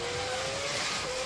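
A McLaren Formula 1 car engine at the 2007 Brazilian Grand Prix, heard as a distant, steady buzzing drone with a rising tonal whine, faint and alone for just over a second.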